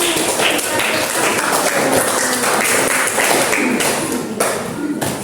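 Classroom applause for a student group after its presentation: steady, dense clapping from many hands filling the room for the whole stretch, fairly loud and close.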